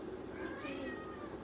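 A house cat meows faintly at a distance, the sound soft and brief against a low background hum.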